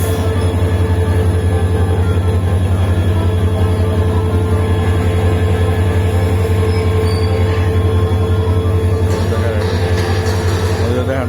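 A train rolls past on a railway line at a level crossing in Chattogram, a loud continuous rumble with steady low drone and wheel squeal, close and dominant throughout.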